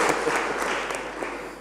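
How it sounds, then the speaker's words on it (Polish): Applause from the audience at a Piła city council session welcoming the new county police commander, a steady wash of clapping filling the whole moment without talk. "którego witamy serdecznie oklaskami"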